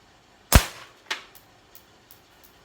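Slingshot shots fired at a target, one sharp loud snap followed by a fainter second crack and several quieter ticks trailing off.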